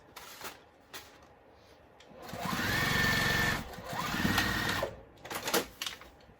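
A sewing machine top stitching runs in two bursts of rapid, even needle chatter, each lasting a second or two, with a whirring rise at each start and quiet handling noises between.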